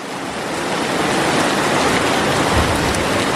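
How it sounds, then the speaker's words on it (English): Heavy rain pours steadily during a rainforest storm in Costa Rica, a dense, continuous roar of drops hitting surfaces, close and loud throughout with no voices. "The rain is coming down, like it is pouring."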